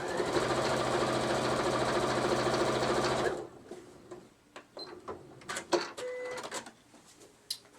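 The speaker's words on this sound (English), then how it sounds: "So I will just stitch that now." A sewing machine stitches a quilt in a fast, loud, steady mechanical run for about three seconds, then stops, followed by quieter fabric handling and small clicks.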